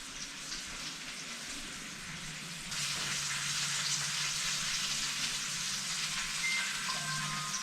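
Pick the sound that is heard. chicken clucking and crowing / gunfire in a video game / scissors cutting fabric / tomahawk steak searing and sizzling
tomahawk steak searing and sizzling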